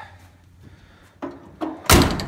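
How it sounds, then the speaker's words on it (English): A car door on a 1986 Chevrolet El Camino slams shut near the microphone, a solid single thunk that follows a couple of softer clicks and handling sounds. "Doors shut good."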